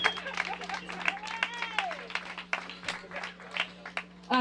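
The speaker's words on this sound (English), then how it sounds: "if we can just give a big round of applause for him" A crowd at a rugby club hall of fame ceremony claps and cheers, with whoops and shouted voices rising over a bursty patter of applause that swells and dips throughout.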